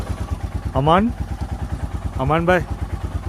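A motorcycle engine idles steadily just after a cold start, with a close, even putter that runs throughout while two short voices speak over it.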